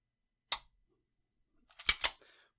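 A CZ Shadow 1 pistol trigger gives a single crisp dry-fire click, then a quick double click of the trigger resetting a moment later, close and quiet with silence in between.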